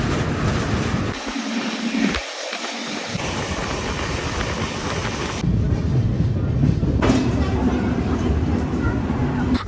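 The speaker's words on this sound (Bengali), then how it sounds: "আমাদের ট্রেন এখন খড়গপুর স্টেশন ক্রস করছে" Loud, continuous rumble and rattle of a moving train heard from onboard as it passes Kharagpur station, with wind noise and a brief dip partway through.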